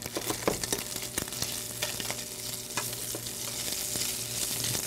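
A sauce for coq au vin with garlic, a bay leaf and rendered pork fat browns in a pan, giving a steady close sizzle with sharp stirring clicks and scrapes scattered through, and no voices.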